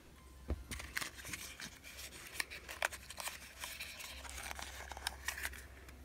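A small perfume gift box is opened, producing faint, close crinkles, taps and scrapes of cardboard and wrapping in scattered short bursts, with no talking.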